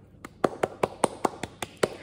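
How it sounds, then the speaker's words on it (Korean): About ten sharp hand claps land in a steady, even rhythm, fairly quiet and close, with no voices alongside. "박수."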